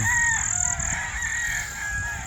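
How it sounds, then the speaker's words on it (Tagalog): Many chicks peep in a dense, continuous chorus of high-pitched chirps, close and loud, with overlapping calls and no talk. "isipin mo oh ang daming sisiw"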